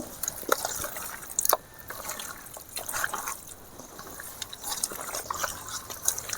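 A hand works raw papaya juice into chicken pieces in a bowl, producing soft, wet squelches and drippy splashes in an uneven rhythm, close and fairly quiet.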